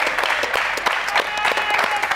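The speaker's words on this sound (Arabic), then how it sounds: "نحب بالله تصفيقة كبيرة برشا على الجمهور الحميد" An audience applauds at a Tunisian TV game show, a dense burst of clapping that carries evenly across the moment, with a voice faintly mixed in.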